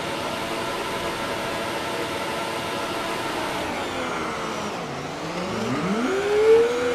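Formula 1 race car engine in a video game race, a steady high whine that dips at gear changes, then climbs in pitch as the car accelerates, loud and close with no talk.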